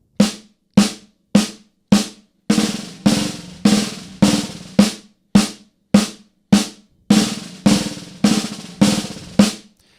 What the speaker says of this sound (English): We're just going to play 4 notes, right, left, and then we're going to do the exact same thing, but we're just going to buzz every one of them.